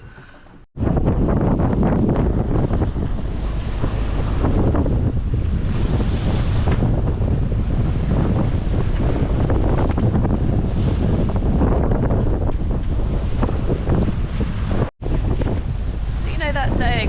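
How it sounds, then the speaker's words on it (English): Ocean swell and wind at sea on the North Sea, heard from a boat: a loud, continuous rushing roar with heavy wind buffeting on the microphone, cutting out briefly near the start and again around 15 seconds. "even on a calm day in the North Sea, this swell was just relentless"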